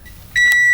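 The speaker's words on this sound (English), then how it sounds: "Alright, so the oven's going off." A powder coating oven's timer beeps, a steady electronic tone starting abruptly and holding, fairly loud and close, with no speech.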